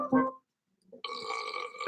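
A short voiced sound starts things off, then after a pause a sustained, resonant human burp rumbles for nearly a second, close up and fairly quiet at a New Year's party.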